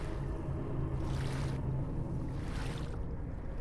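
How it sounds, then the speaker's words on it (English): A fishing boat at sea motors back toward shore, giving a steady low engine drone with wind and water noise washing over it, constant and unbroken throughout. "A fishing boat had gone out for the morning's run earlier in the day, and now started to head back to shore with its load in tow."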